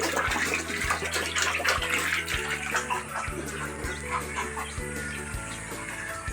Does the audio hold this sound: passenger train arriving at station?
no